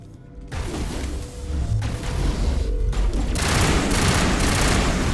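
Sustained firefight from the video game Mass Effect 1, with dense overlapping gunfire and mechanical clatter building steadily over several seconds, loud and continuous without pauses.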